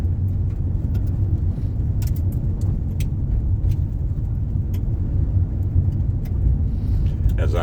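A car drives along beside a wind-driven prairie fire, a constant close rumble of engine, tyres and wind noise throughout with occasional light rattles.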